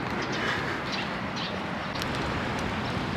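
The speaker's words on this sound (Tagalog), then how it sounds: "May mga kalapati today" Soft cooing of pigeons in a park, faint calls scattered over a constant wash of outdoor ambient noise.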